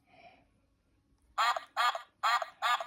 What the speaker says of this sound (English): Peppa shows Richard how to feed the ducks.